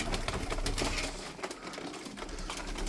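Taklacı tumbler pigeons coo and flutter in a close, busy loft, a dense stream of soft coos and rustling wings with no talk over it.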